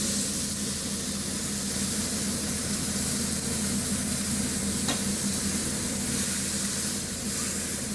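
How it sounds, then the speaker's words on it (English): A rolled ribeye beef joint sears in a hot pan, giving a loud, steady sizzle that holds without a break for the whole stretch, close up with no talking. "Now I'm going to sear the beef in that pan."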